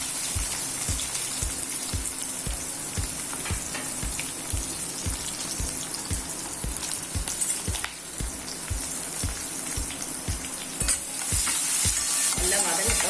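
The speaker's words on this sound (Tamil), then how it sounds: "வீட்டில் இருந்த ஆனியன் எடுத்து வச்சு அதை போட்டுக்கலாம்" Onions sauté in hot oil after a tempering of curry leaves, a dense continuous sizzle with regular scraping strokes of a spoon against the pan, close and fairly loud, no talking.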